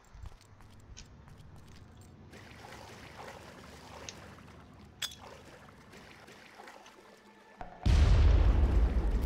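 A sudden loud explosion bursts in the video game Far Cry near the end, after several seconds of faint game ambience with scattered small clicks and footsteps.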